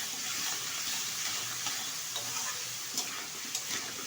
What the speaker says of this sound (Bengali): এখন ভালোভাবে কষিয়ে নেব মশলার সাথে